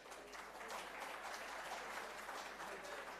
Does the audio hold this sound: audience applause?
yes